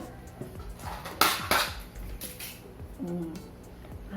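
Ice cubes dropped into a glass for homemade dalgona coffee make a few sharp clinks and clatters up close, with faint background noise between them.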